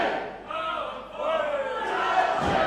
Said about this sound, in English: But if you can hear them, the chants of power forward